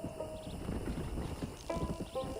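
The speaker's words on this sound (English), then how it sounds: "O cavalo vem onde que eu tô." Horse hooves in the video game Red Dead Redemption, a quick rhythmic clip-clop of a horse trotting up close, with a soft snort or whinny and game voices talking over it.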